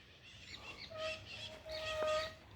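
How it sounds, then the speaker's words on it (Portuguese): Rufous hornero calling outdoors, a few bright chirping notes and a thin sustained whistle-like tone over a quiet background, fairly close and clear for a couple of seconds. "O João de Barro tá ali"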